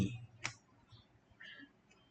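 A single sharp computer mouse click near the start, close and crisp, followed by faint room noise and a few soft ticks.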